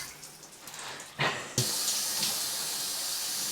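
Water from a newly fitted shower head starts after a couple of small knocks, then runs as a steady loud hiss close up.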